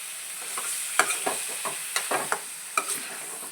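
Chicken in masala sizzles in oil over a high flame while a spatula stirs it, scraping and clinking against the pan in irregular close strokes over a steady frying hiss.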